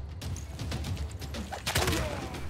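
Bombardment of city defenses in the Civilization 6 strategy game, with a rapid burst of overlapping gunfire-like blasts and crackling impacts that builds to a louder volley near the end.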